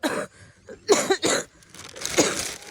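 Several sharp, separate coughs in quick bursts, close and loud, with short quiet gaps between them.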